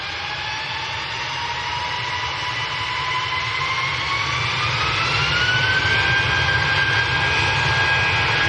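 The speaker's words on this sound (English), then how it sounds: "next to go, BA to London Heathrow" A British Airways Airbus A319 jet departs Manchester for London Heathrow with a loud, steady engine roar and rising whine, building gradually and sustained throughout with no talk.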